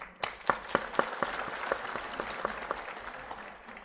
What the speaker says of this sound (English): Please join me to clap for them.